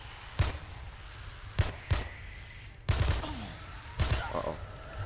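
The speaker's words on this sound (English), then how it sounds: "I'm just excited to test out the 9mm machine gun, or submachine gun" A 9mm submachine gun in the Dead Frontier 2 video game fires in several loud close bursts with gaps between them, some shots echoing, a voice audible faintly underneath.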